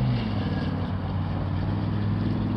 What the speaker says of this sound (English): I swear to God, that was a Suburban with like a diesel engine